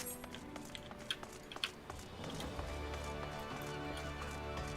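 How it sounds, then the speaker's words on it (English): Horse hooves clip-clop steadily while riding a mount in the Final Fantasy XIV video game, a moderate rhythmic patter against a continuous game music backdrop. "Let's go ride the horse."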